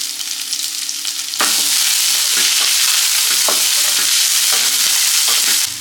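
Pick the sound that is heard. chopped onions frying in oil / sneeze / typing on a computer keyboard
chopped onions frying in oil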